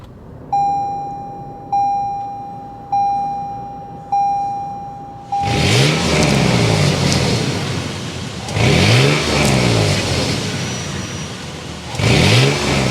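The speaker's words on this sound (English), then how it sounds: "start up this V6 so you can hear that exhaust note." A series of electronic door chimes sounds, then the V6 engine of a 2024 Toyota 4Runner Limited SUV cranks to life and roars through several loud revs that rise and fall close by.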